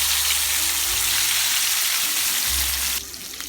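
Fresh fish frying in oil in a pan, giving a loud, close, steady sizzle and crackle that drops sharply quieter near the end.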